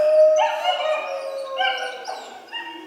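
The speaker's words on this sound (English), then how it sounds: "The puppies howl longer than the big guys." Wolves and wolf puppies howl together, loud and close, a chorus of long overlapping wavering howls with higher yips and whimpers.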